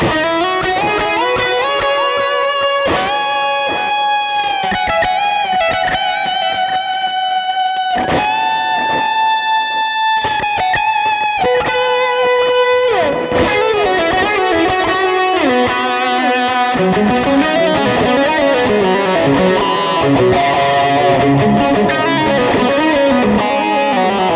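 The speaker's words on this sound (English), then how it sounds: "I'm gonna turn on the delay now" Electric guitar through a Line 6 HX Stomp with delay added to a big Dynamic Hall reverb: ringing chords and arpeggiated lines repeat and smear into a dense, continuous ambient wash, steady and loud with no talking.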